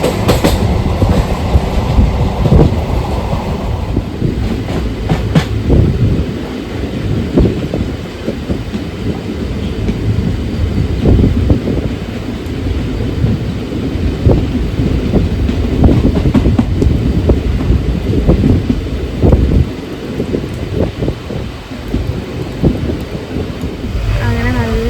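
Interior of a passenger train while rain falls outside, with a continuous loud rumble and rhythmic wheel clatter from the rails filling the whole stretch.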